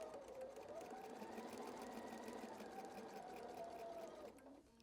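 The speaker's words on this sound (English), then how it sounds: "let's go to the sewing machine." A sewing machine stitches a fabric door banner with a quiet, steady, fast whirring run that slows and stops near the end.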